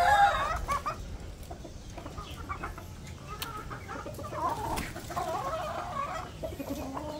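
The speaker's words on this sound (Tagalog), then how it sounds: "Agawan sa patuka yung mga inahin eh" Hens cluck and murmur close by while competing for feed, with scattered pecking and scratching sounds as several birds bustle around together.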